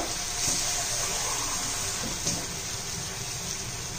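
A steady stream of water pours and splashes into a pot of matki (moth bean) curry, a continuous bright rushing sound heard alone and fairly close.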